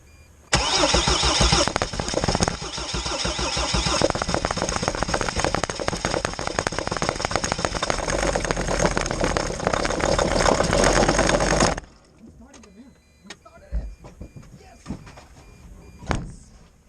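A Mercedes Sprinter T1N van left standing with a non-start and a suspected battery issue cranks and fires, then runs loud and steady for about ten seconds before cutting to quieter knocks and handling sounds.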